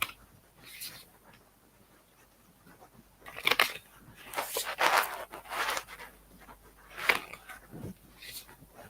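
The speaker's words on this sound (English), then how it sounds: "I'm shuffling the cards already." Tarot cards are shuffled by hand during a live reading, a series of crisp riffling and slapping bursts of uneven rhythm, close and fairly loud after a quieter start.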